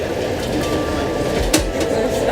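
A train running from Brașov toward Sinaia rumbles steadily from inside the carriage, a dense continuous roll with a brief clatter partway through.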